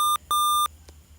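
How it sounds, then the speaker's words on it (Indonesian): Buzzer on an electrical energy-consumption monitoring system sounding an overload alarm: three sharp electronic beeps, two long and one short, loud and close, with steady hum underneath. "Saat nilai arus melebihi batas, relay akan mati. LED merah menyala dan buzzer akan berbunyi."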